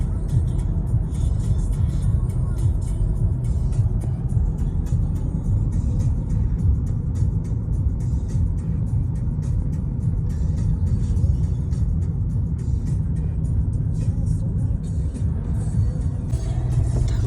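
A car cruises slowly along a town road in Yaremche at around 50–60 km/h, giving a steady low engine and tyre rumble heard from inside, with a few faint clicks and knocks and no one speaking.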